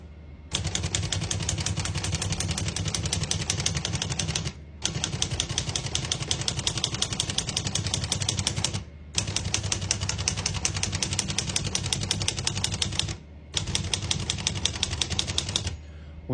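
Rapid, steady clatter of 1950 Olivetti Lettera 22 manual portable typewriter keys in four long bursts, separated by brief pauses, close and fairly loud.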